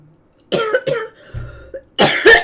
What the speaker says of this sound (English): Hopefully without this friggin' ridiculous cough